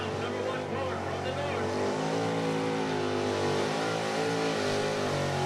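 A small block pulling truck engine revs hard at a truck and tractor pull, a loud sustained roar with rising and falling pitch, nearby and continuous, with a voice talking over it.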